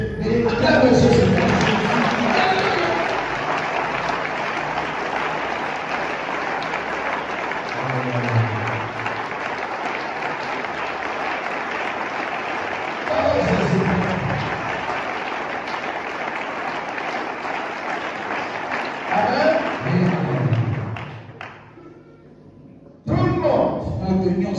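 A church audience applauds loudly and continuously, a dense roar of clapping with a preacher's voice calling out over it, swelling in places and briefly dropping away near the end before resuming.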